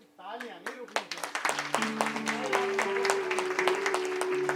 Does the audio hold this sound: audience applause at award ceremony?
yes